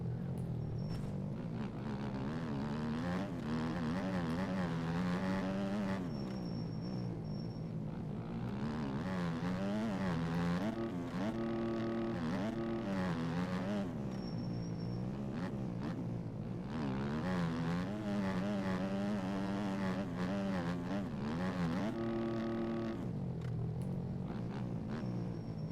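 A motocross bike in MX Bikes laps a track, the engine rising and falling repeatedly through gear changes and throttle blips, loud and continuous with no talk.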